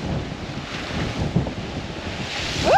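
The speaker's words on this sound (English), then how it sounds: "Waiting for a big wave to come along and splash them over the wall." Surf washes against a sea wall at Wellington Point, with steady loud wave wash and strong wind buffeting the microphone close by.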